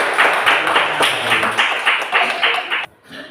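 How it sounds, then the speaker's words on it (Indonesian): A classroom group claps together in a fast, loud rhythmic burst of about a dozen claps, with voices mixed in, before it cuts off abruptly. "Tepuk tangan."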